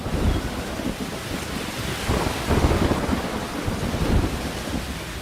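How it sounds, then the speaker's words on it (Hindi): Heavy rain pours steadily during a storm at the Dwarkadhish temple, with rumbling thunder from a lightning strike on the spire swelling and rolling through the downpour. "तेज बारिश के बीच द्वारकाधीश मंदिर के शिखर पर बिजली गिरने की ये तस्वीरें कैमरे में कैद हो गई हैं"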